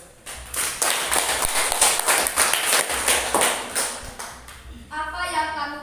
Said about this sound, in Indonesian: Tepuk tangan dulu buat Eres.